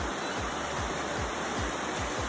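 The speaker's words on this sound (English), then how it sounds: "The beautiful, I'm bouncing around, the beautiful Mersey River." The Mersey River rushes steadily near falls, a dense, constant roar of flowing water with a faint rhythmic thumping underneath, and no voices.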